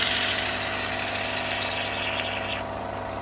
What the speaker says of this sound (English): sorry for the sound of the pump